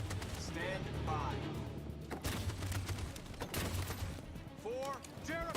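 Gunfire bursts from a video game battle ring out in a dense, continuous mix, with scattered booms and game voices talking over the shooting.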